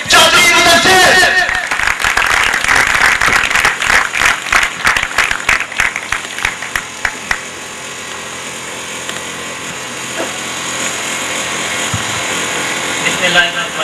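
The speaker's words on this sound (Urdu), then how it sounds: "اس اپنی ایکسپیرینس کی شیئرنگ کے لیے میں سب سے پہلے بلانا چاہوں گا آپ کی بھرپور تالیوں میں چودھری مدثر۔" An audience at a bike ceremony in Depalpur bursts into loud, dense applause to welcome a speaker, the clapping thinning into scattered individual claps after several seconds and fading to a quiet room hum.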